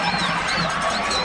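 Crowd at a high school football game between San Angelo Central Bobcats and Frenship Tigers cheering in a sustained roar, with whistling tones and voices mixed into the steady noise.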